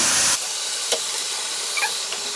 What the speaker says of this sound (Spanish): vamos a echar todo el pan, todo el bolillo que les enseñamos hace rato, ya lo picamos, ahora vamos a echarlo